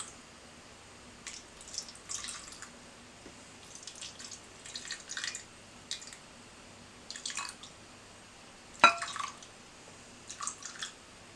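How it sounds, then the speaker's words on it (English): Rum jelly being poured into four glasses for a summer rum trifle, heard as soft intermittent liquid pours and drips in short bursts, fairly faint and close, with quiet pauses between them. "So they're the 4 glasses, and I'm going to pour the rum jelly"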